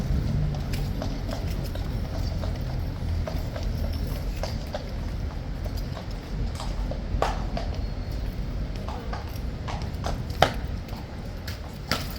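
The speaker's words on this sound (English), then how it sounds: "Clippy clopping into the gate." Horse hooves of the King's Guard clip-clop steadily on hard ground in an irregular rhythm, moderately close, over a low rumbling background.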